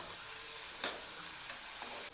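Potatoes with turmeric stir-frying for poha give a soft, even sizzle, with one sharp scrape of a spoon partway through and lighter stirring after, heard alone at low volume.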